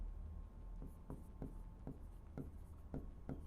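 Pen or marker strokes writing out a Class 10 maths solution on similar triangles, a soft series of short scratchy taps in steady rhythm, close and quiet over a faint low hum.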